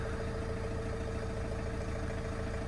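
A 2009 Renault Master Phase 3 van engine with a replaced, cloned engine ECU runs steadily at idle, a constant low rumbling drone with no revving, loud and close.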